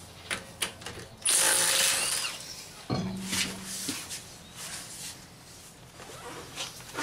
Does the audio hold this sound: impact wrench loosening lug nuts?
yes